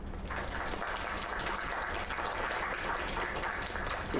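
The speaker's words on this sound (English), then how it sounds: "Another round of applause." Applause from a crowd inside the video game LAKE, heard as dense, steady clapping that stays loud and continuous throughout, with no voices over it.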